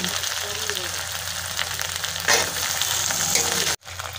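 Masala sizzling and frying in a pan while being stirred for wheat daliya, a steady loud crackle with a brief scrape of stirring partway through.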